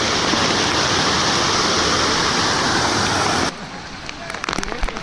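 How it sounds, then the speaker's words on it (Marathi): Waterfalls pouring down mountainsides on a monsoon trek on Garbett Plateau, a loud dense roar of rushing water filling the first few seconds, then dropping to quieter background rush. "डोंगरातून वॉटरफॉल्स येतात"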